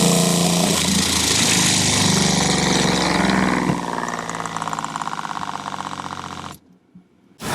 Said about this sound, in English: Alright, so the pump really quickly primed.